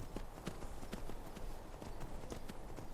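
A horse walks in Skyrim, its hooves clip-clopping in a steady, even rhythm, soft and somewhat distant under a faint background hum.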